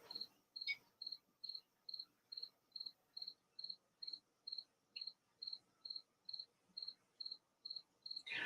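A cricket chirps in a steady, evenly spaced series of short high trills, about two per second, faint and alone in a quiet outdoor setting.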